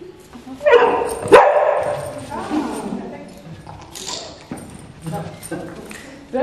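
A dog barks a few times nearby while a person talks over it. Some whining and yipping sounds are mixed in.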